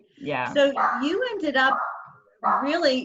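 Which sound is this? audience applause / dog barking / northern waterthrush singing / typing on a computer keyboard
dog barking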